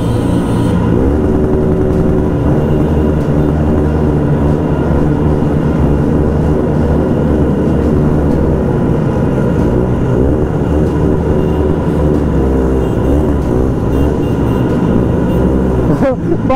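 Suzuki Hayabusa motorcycle riding at speed, a steady, loud engine drone with harmonic whine held throughout, close and continuous with no pauses.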